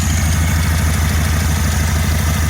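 A 1974 VW Beetle engine idles roughly, a loud, close, continuous low throbbing with steady rapid pulsing and no voices over it.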